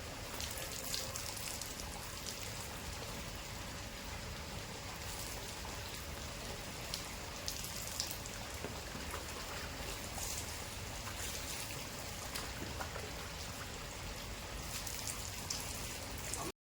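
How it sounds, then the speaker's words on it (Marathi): Hot water pours and splashes steadily during a bath at a farmhouse, a continuous rain-like patter and hiss that runs evenly throughout with no voices. "आता मी गरम पाण्यात आंघोळ करतोय."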